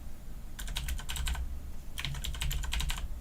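Computer keyboard typing comes in two quick clusters of light clicking, close but soft over a low background hum.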